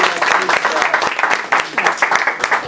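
An audience at a community gathering bursts into lively, close clapping, a loud, busy patter of many hands that continues throughout with only slight dips.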